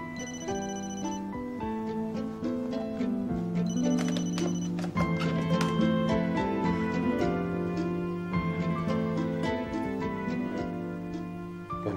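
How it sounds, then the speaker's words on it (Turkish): Mobile phone ringtone playing on and on, a repeating electronic melody with chiming high notes, close and fairly loud, sounding alone for several cycles. "Benim telefonum çalıyor."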